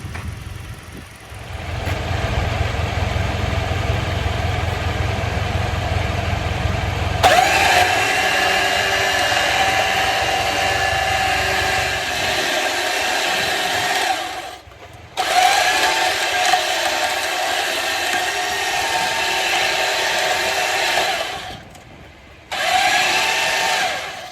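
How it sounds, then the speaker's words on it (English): Truck-mounted winch motor whirring steadily as it winds cable onto the drum, pulling the truck up; the whine runs for long stretches and stops briefly twice before resuming. "we're just going to let the winch walk the truck all the way up"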